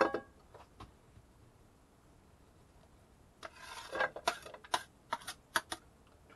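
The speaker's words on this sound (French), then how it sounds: "La poêle." A frying pan is handled while cooking inside a camping car: after a quiet stretch with a few faint ticks, a cluster of close, sharp scrapes and knocks of metal being moved and set down.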